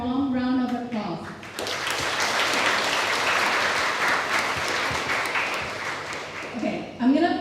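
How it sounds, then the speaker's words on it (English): An audience gives sustained, loud applause to welcome the principal of AIT Chinese Language School, with brief speech at the start and end. "Please give her a warm round of applause"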